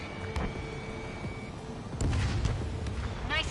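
A missile blast in an Ace Combat air battle downs an enemy aircraft, heard as deep booming bursts over steady jet rumble, with a sharper burst near the end.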